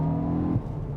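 A 2022 Hyundai i20 N hot hatch in Sport Plus mode gives a steady, throaty engine drone with a low rumbling exhaust note that shifts pitch partway through, close and fairly loud.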